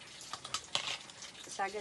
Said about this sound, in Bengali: এটা শাক শাক ভাজার জন্য পেঁয়াজ ভেজে নিচ্ছে আর লঙ্কা ভেজে নিচ্ছে